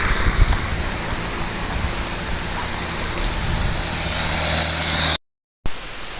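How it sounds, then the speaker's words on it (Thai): Heavy rain pours down steadily outdoors in a dense, loud wash of hiss, continuous throughout with a brief gap near the end. "ฝนตกหนักเลย"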